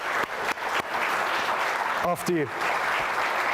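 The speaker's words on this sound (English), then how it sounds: "could we start with a round of applause" A conference audience gives a steady round of applause at a live-streamed event, continuous and fairly loud throughout, with a brief voice speaking over it midway.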